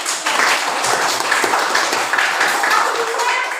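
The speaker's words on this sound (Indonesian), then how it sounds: "kita berikan tepuk tangan" A classroom of students applauds during a lesson, a steady dense patter of many hands clapping that fills the whole stretch at even loudness, with a few sharper taps standing out.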